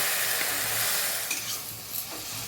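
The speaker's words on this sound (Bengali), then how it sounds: "এবার বাঁধাকপিটা নাড়াচাড়া করে নেবো।" Hand-mashed cabbage with softened tomato is stirred in a frying pan, a steady close sizzle with soft scraping strokes and no talking.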